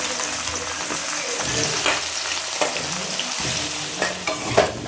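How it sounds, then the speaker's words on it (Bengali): Potatoes frying in hot oil, a continuous close sizzle with scraping stirs and a few louder clinks of the utensil against the pan, no talk. "তেলের মধ্যে আলুগুলো দিয়ে ভেজে নেব"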